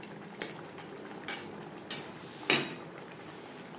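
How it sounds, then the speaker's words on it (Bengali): Pabda fish simmering in tomato gravy, with a few separate clinks and scrapes of a utensil against the pan over a quiet, low background. "গ্রেভির সাথে মাছ বেশ ভালো করে মিক্সড করে দেব। আরও 3-4 মিনিট রান্না করব।"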